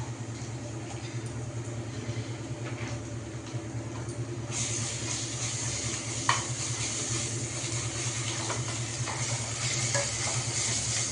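Ginger garlic paste frying in a pan with a steady sizzle and scraping stir strokes, a low constant hum beneath, and the sizzle growing brighter and louder about halfway through.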